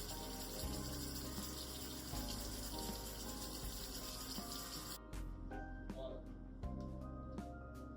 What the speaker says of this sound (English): Going to re-shower.